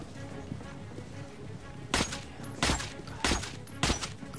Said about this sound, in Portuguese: eu tô atirando aqui, ó. 42 tiros.